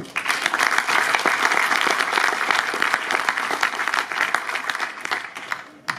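Audience applause fills the room at the opening of a digital technology forum in Marseille as the MEDEF PACA president is welcomed on stage, steady dense clapping throughout with no voices over it.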